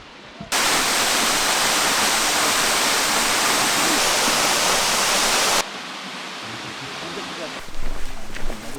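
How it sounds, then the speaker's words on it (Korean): A dense, loud rush of Paraeso Falls fills most of the clip, then drops off to a softer steady roar with faint rustling at the end. "계단을 타고 내려가면 밑에 폭포가 있어요"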